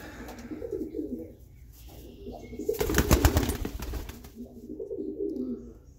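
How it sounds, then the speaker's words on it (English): Pigeons cooing in a loft among young, recently hatched birds, soft repeated coos rising and falling with a brief burst of wing flapping midway, close by and alone. "Pretty bird."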